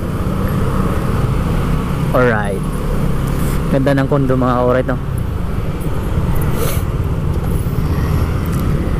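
Steady road traffic noise and engine hum surround a rider on a KRV Moto 180 scooter in city traffic, continuous and close, with someone talking over it.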